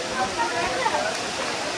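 Agaya Gangai waterfall in the Kolli Hills pours with a steady broadband roar, a continuous hiss of falling water filling the scene without a break.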